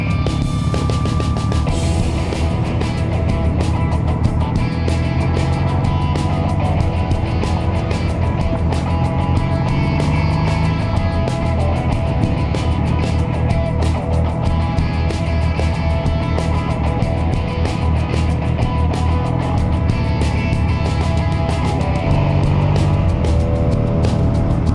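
Motorcycles pass along a country road through the Trough of Bowland, a steady loud engine drone with wind rush throughout, no speech.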